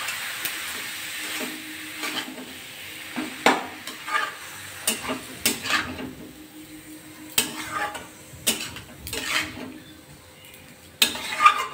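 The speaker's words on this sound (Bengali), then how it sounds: "জল চিনিয়ে ভালো করে কপিটার থেকে মশলাটা মাখিয়ে দিই" Spice paste is stirred through shredded cabbage in a hot pan for a prawn-and-cabbage dish. Repeated scraping strokes of a spatula sound close and irregular over a steady low sizzle, with no voices.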